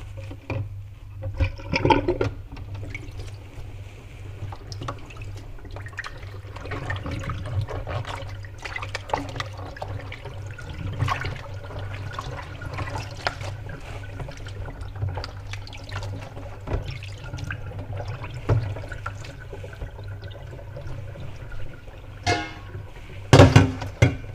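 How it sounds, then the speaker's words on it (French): Water draining from salted cabbage being prepared for kimchi, a steady trickling and splashing with a few louder pours and sloshes, running on alone close by for the whole stretch. "Et maintenant, je vais égoutter d'eau."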